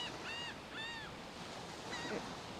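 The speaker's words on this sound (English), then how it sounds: "Letting those waves, the sounds of the waves right here, wash through your whole body and mind" Ocean surf washes continuously on the shore in a broad, steady hiss, while gulls or geese cry several times in the distance.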